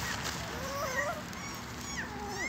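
Puppies stuck in a roadside drainage channel let out faint high whimpers and yips, thin and wavering over background hiss, with no clear speech.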